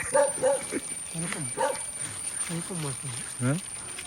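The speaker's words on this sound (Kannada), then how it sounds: "ನಾಯಿ ಬೊಗಳ್ತಾ ಇದೆ" A dog barks repeatedly in short yelping bursts nearby, coming in quick irregular clusters over a quiet outdoor background.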